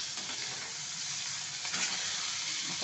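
Onion and tomato sautéing in a pan, a steady close sizzle and hiss running without pause, with a few faint scrapes of stirring and no voices.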